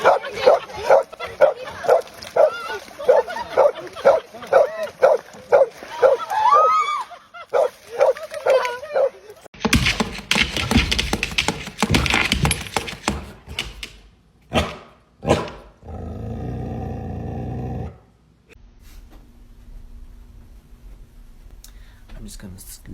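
A dog barks and yips in quick repeated bursts, then whines and growls. Later it moves into rustling, thumping noise and a quieter stretch with human talk mixed in.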